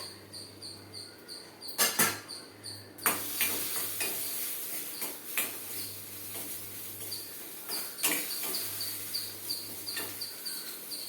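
Grated coconut is roasted in a pan, with gentle stirring scrapes and a faint sizzle over a steady background hum and chirping, quiet and close, with a few sharper knocks.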